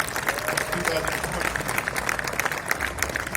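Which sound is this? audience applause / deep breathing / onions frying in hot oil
audience applause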